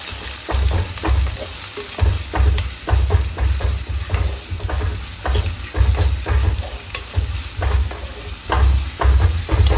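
Onion and ginger paste fry loudly in a pan for fish curry while a spoon stirs them, giving repeated scraping strokes in an uneven rhythm over a constant close sizzle.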